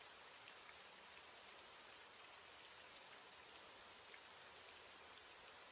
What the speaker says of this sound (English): As the rain falls and the night deepens